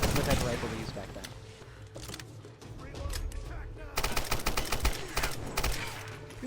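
Rifle gunfire from an old World War II-era rifle in the Tomb Raider video game, sharp repeated shots in quick rapid volleys, loud and close, with a voice talking over parts of it.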